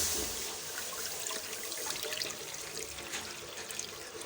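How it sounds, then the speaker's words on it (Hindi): Full-fat milk pours into a pan set over a lit flame, a soft continuous liquid splashing and trickling that stays fairly quiet and steady throughout. "फ्लेम ऑन करने के बाद हम इसमें एक पैन में दूध डाल देंगे।"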